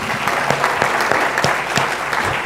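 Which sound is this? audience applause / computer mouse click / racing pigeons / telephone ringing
audience applause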